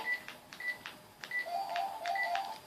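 A telephone sounds a series of short electronic beeps and trilling tones in a quiet room, repeating in quick bursts, moderately near.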